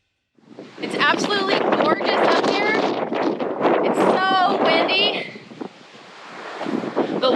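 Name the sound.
wind blowing on Irish hilltop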